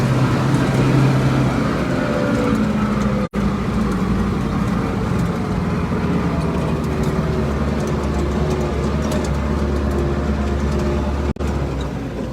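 A Schlüter Super 2000 TVL tractor engine runs at a steady 1,500 RPM, a loud, continuous low rumble heard up close that holds an even drone from start to finish, broken only by two brief dropouts.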